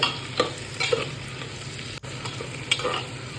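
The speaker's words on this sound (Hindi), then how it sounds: "प्याज को हल्का सा गोल्डन ब्राउन करना है। ऐसे ही घुमाते रहिएगा।" Onions frying in a pan for Sindhi-style lauki kofta curry, a steady sizzle with a few scraping stirs of a spoon, close and without speech.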